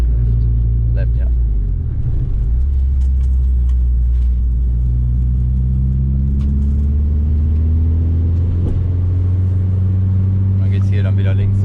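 A car cruises onto the German Autobahn with a steady, loud engine drone and road rumble from inside the cabin, a rising tone hinting at acceleration, and occasional light clicks over the constant noise.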